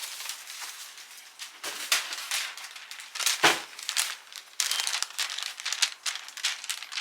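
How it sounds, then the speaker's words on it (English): Tissue paper from a Sacai x Fragment x Nike LD Waffle sneaker box crinkles and rustles up close in irregular crackling bursts, with one sharp louder crunch midway and no talking. "And it also comes with this long tissue paper."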